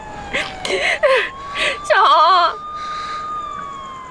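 A wavering emergency siren, most likely an ambulance, sounds in rising and falling sweeps through the middle of the clip, close and loud, with short bursts of speech before it and faint speech after.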